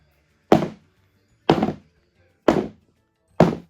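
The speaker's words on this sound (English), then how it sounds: "now we're going to shake it and bang it to get the air bubbles out" Four heavy, evenly spaced thunks as a cast iron bundt pan full of cake batter is banged on a counter to knock out air bubbles, each hit dull and close.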